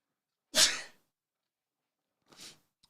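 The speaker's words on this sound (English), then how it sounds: "and I want to sneeze" A single loud, sharp sneeze bursts out close to the microphone, followed about two seconds later by a fainter breathy exhale.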